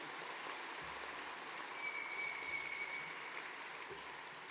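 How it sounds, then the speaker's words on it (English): Audience applause at the close of a panel discussion on drug legalization, a steady, dense wash of clapping from a hall crowd that holds evenly throughout, fairly distant and soft. "Ladies and gentlemen, while you're clapping, could you please thank Antony, Greg, Mick, Fiona, Greg, Laura and Tania"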